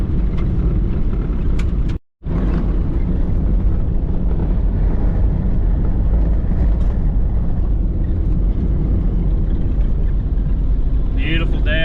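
A 3rd Gen Toyota 4Runner rolls along a dirt road, its engine and tire rumble forming a loud, steady drone with wind buffeting the microphone, broken by one brief dropout.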